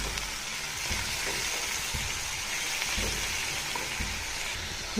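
Chopped onion and tomato sauté in a hot pan for tomato chutney, giving a loud, continuous sizzling hiss that stays steady throughout.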